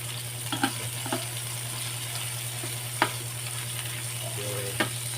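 Onions frying in a pan for ginataang mangga, a steady close sizzle under a constant hum, with a few sharp clinks and scrapes of stirring.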